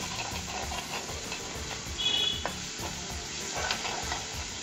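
Chopped garlic and ginger sizzle steadily in hot oil in a pan, with occasional stirring scrapes, while cooking until golden for Punjabi rajma.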